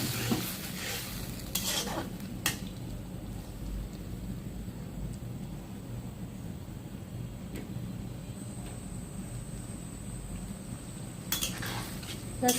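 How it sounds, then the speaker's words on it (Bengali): Spice paste with tomato paste, cooked for a pomfret fish curry, fries in a pan. It gives a soft, steady sizzle broken by scraping stirs and occasional clinks of utensil on pan, heard up close with no talking. "মশলাটা কিন্তু ভাজা ভাজা হয়ে গিয়েছে"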